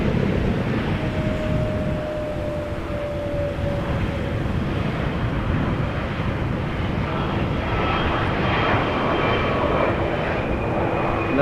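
A KLM Embraer 175 airliner landing at Amsterdam Schiphol without thrust reversal, a steady loud engine roar and rumble with wind noise throughout and a faint high whine in the background.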